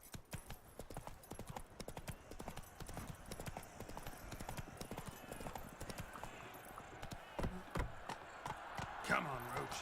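Roach, a horse in The Witcher 3, gallops with steady, rapid clip-clop hoofbeats throughout, close and continuous, with a brief whinny-like cry near the end and a voice talking over it.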